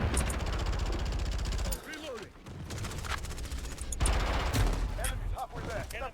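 A P90 submachine gun fires in the video game Modern Warfare 2019, loud rapid bursts of gunfire with short pauses between them, mixed under a person talking.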